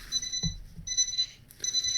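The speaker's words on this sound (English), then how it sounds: "Whose alarm are we hearing?" An electronic alarm clock beeps in bursts, three clipped pulses of high-pitched tones separated by short pauses, loud and close.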